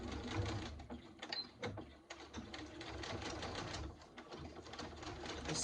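A sewing machine runs in a quiet room, stitching forward, reversing for a backstitch, then stitching on, a faint rapid mechanical whir with brief pauses and changes in pace.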